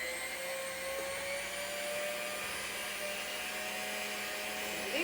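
A countertop blender or food processor, such as a NutriBullet or Ninja, runs steadily with an even motor whine through the whole stretch, fairly quiet and with no voices over it.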